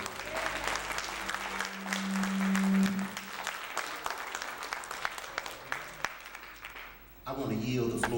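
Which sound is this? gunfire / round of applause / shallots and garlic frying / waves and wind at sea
round of applause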